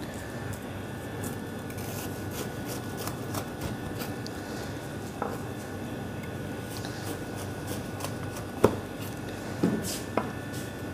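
A knife cuts through a layered grilled chicken sandwich on toasted bread, with soft crunchy sawing and a few sharper crackles of crust over quiet kitchen background, no talking.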